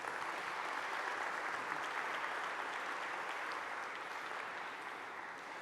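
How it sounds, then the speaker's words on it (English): A large audience at a community graduation ceremony for more than 170 graduates bursts into sustained applause, a thick, steady roar of clapping that eases slightly toward the end. "A huge round of applause"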